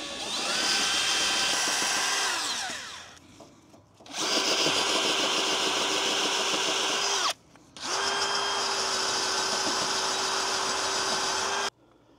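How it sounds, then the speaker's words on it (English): A power drill spins a brass wire wheel in long loud bursts with a steady whine, pausing briefly twice between runs, with abrasive scratching throughout, cleaning a Land Rover LR4 brake part. "you can get yourself a brass wheel, put on drill,"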